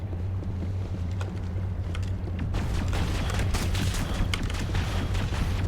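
Rapid gunfire from the Mass Effect video game, a dense run of sharp shots that thickens into a continuous volley over a steady low engine-like hum.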